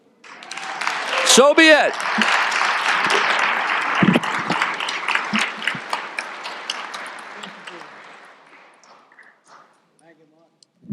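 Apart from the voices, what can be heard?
audience applause after proclamation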